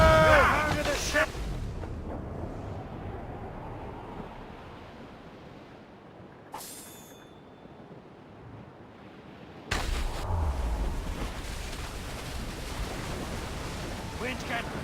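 Naval cannons boom from a ship at sea in Assassin's Creed Rogue, with a sharp blast near the start and another heavy volley later over continuous wind, surf and ocean rumble, while voices shout briefly.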